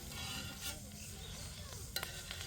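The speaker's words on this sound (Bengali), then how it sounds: "আমরা স্যান্ডউইচগুলো সুন্দরভাবে ভেজে নিব" Village-style chicken and egg sandwiches fry in a pan, with a faint, even sizzle and light stirring or scraping sounds, plus a couple of brief clicks near the end.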